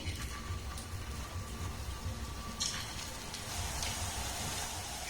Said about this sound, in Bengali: এবার যে পিঠেগুলো বানিয়েছে এগুলো এই তেলের মধ্যে আমি দিয়ে দেবো